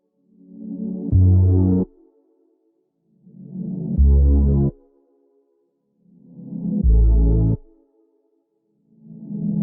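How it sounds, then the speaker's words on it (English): Reverse reverb swirls pitched down an octave, each one swelling up from nothing to a sudden cutoff, repeating four times in a slow, even rhythm, alone with no voices. "I added these reverse reverb swirls that I pitched down an octave"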